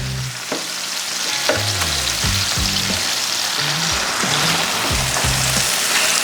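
Burgers sizzling on a Blackstone 22-inch E-Series griddle at 450 degrees after flipping: loud, continuous frying crackle close up, with spatula scrapes and taps scattered through it and no talk.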